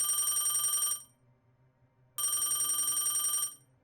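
An antique telephone bell rings in two long, rattling bursts separated by a pause, close and clear against a quiet background.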